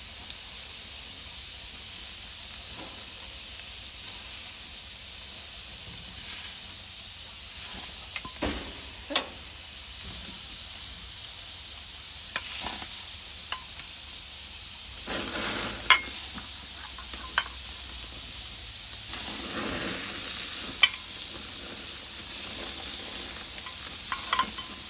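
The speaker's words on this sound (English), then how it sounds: "I'm going to place my corn on, but I want to make sure to rotate it often, otherwise it will get burned" Corn brushed with olive oil sizzles on a hot grill, a continuous bright hiss with scattered crackles and pops, steady and fairly close, with no talk over it.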